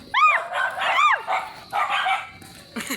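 Dogs bark in quick bursts: two sharp yelping barks close together, then a stretch of rougher barking that drops to a brief pause before one more short bark.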